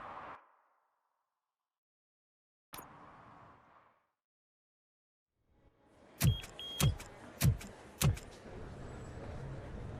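A car in the video game RoboCop: Rogue City makes door and power-window sounds, then four sharp mechanical thumps in a row as an engine hum swells underneath.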